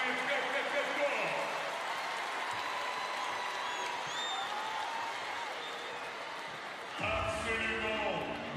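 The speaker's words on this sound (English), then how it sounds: "On peut les applaudir très très très fort." A Paris 2024 arena crowd applauds wheelchair basketball players at a women's play-off game, with sustained clapping and cheering that swells louder near the end while an announcer talks over it.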